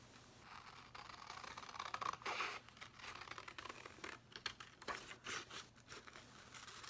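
Scissors cut a hand shape out of paper up close, a quiet run of crisp snips and rustling paper crinkles in uneven bursts with no talking.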